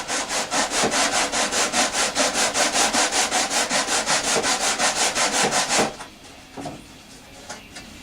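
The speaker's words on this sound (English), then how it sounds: "so you just keep sanding it down" Rhythmic back-and-forth rasping of sandpaper on the wood of an RC plane, about three strokes a second, loud and close, stopping abruptly near the end.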